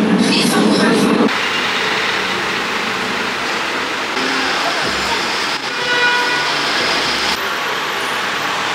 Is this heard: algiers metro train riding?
yes